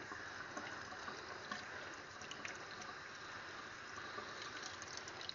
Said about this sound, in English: And then just rinse.